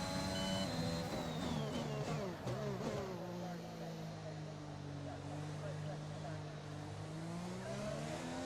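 Formula 1 car engine in F1 2021, a high whine that drops as the car brakes through gears, then settles into a steady lower drone with a faint tire squeal, while someone talks throughout.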